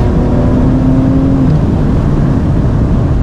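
A car pulls hard under heavy throttle during a road race, its engine note climbing steadily, loud and close, heard from inside the cabin with no talking.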